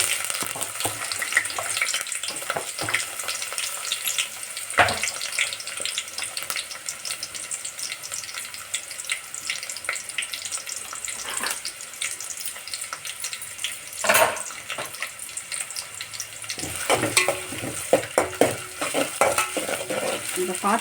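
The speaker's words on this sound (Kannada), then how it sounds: "ಈಗ ಪಾತ್ರೆಗೆ ನಾನು ಈರುಳ್ಳಿನ ಹಾಕಿದ್ದೀನಿ ಸ್ನೇಹಿತರೆ." Chopped onions sizzle in hot oil in a pot for okra sambar, a steady close hiss of frying with occasional clinks and stirring sounds throughout.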